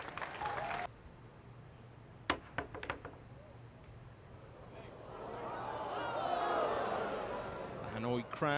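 Applause from the crowd at the Hanoi Open Pool 2025 final, a match between Moritz Neuhausen and Pijus Labutis. A short burst of clapping opens the clip, a few sharp knocks follow, and a long murmur of crowd reaction rises and swells near the end.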